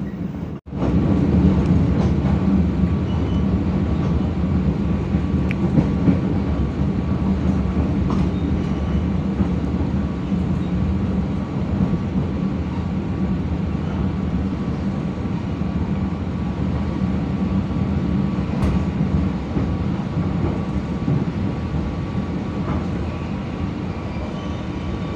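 The KA Jaka Tingkir passenger train rolls along the rails in Indonesia, a steady rumbling drone heard from inside with faint clicks, running unbroken for the whole stretch.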